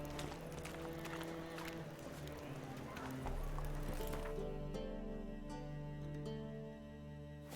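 Hooves clip-clop at a gallop as a horse runs in The Witcher 3: Wild Hunt, a steady rhythmic beat under game music and voices, with the pace shifting partway through.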